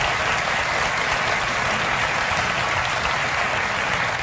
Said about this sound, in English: Wasn't that resounding an applause for her?